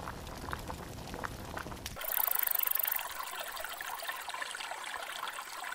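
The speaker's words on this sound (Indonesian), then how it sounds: "Dayang, aku mandi sebentar di sungai ya. Hati-hati, Nyonya. Arusnya deras" Water rushing and splashing in a swift river, starting after a brief stretch of background noise and then flowing steadily with a bright hiss and bubbling texture, moderately loud and continuous.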